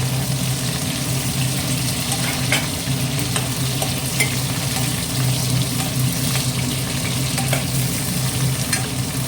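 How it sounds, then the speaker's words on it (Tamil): Shallots, green chili and curry leaves frying in oil for a fish curry, a loud continuous crackling sizzle up close with occasional stirring clicks and a low hum beneath, with no one speaking. "சின்ன வெங்காயம் கொஞ்சம் நேரம் வதங்கட்டும் கொஞ்சோண்டு பச்சை மிளகா கொஞ்சம் கருவேப்பிலை"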